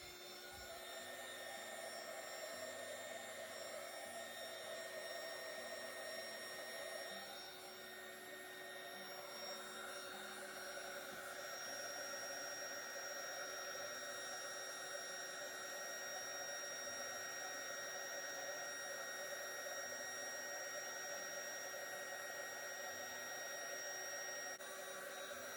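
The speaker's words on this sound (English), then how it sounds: "I'm going to heat gun it just to get it all kind of smoothed out." A heat gun blows steadily over a botanical candle decorated with flowers, smoothing the wax surface; a continuous close, even whooshing hum with tonal whine runs the whole time, with no talking.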